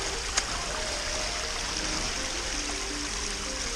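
Forest stream flowing down a stepped rocky bed, a steady broadband rush and trickle of water that stays even and close throughout, with no speech.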